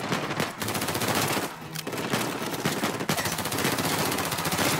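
Rapid automatic gunfire in an Uncharted 4 firefight, dense bursts of loud shots rattling almost continuously with a brief lull midway.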